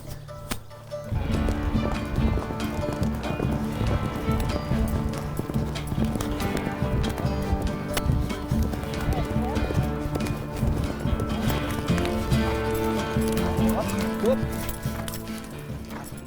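Racehorses' hooves clip-clop steadily and close by, a dense run of overlapping hoofbeats over continuous background noise, with an occasional whinny.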